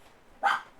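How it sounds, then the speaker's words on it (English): A single short, sharp dog bark, somewhat distant, following a brief quiet moment. "If you can hear my dogs barking,"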